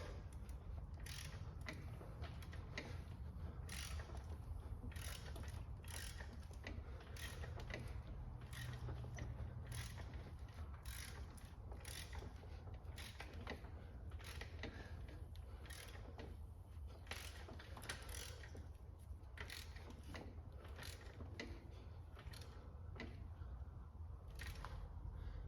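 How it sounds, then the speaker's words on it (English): A 1.6 TDI engine is turned over slowly by hand during a timing belt replacement, giving a faint, steady series of ratcheting mechanical clicks with no talk. "So now we're going to turn the engine over."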